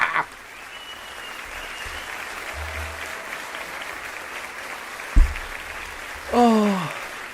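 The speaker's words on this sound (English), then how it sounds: "That's a round of applause." A steady wash of crowd applause rolls on for several seconds, broken by a single sharp thump and then a brief rising shout or whoop near the end.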